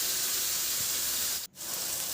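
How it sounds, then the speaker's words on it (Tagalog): Crumbled tofu fries in a pan with a steady, bright sizzle and hiss that drops out briefly midway, then resumes at the same level. "At prituhin ko na tong dinurog ko na tokwa."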